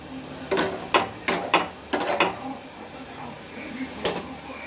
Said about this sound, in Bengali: এবার আর একটু নাড়িয়ে চাড়িয়ে ডালটা দিয়ে দেবো।